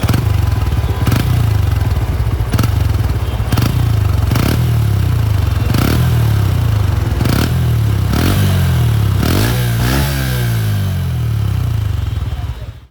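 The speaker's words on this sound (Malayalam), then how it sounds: "ഇതിൻ്റെ എക്സോസ് സൗണ്ടും അത്യാവശ്യം ഡീസൻ്റ് ആണ് കേട്ടോ" A Honda CB125 Hornet motorcycle engine, long-stroke, thrums loudly with a deep, steady exhaust note, interrupted by regular clattering knocks, then revs up before cutting off.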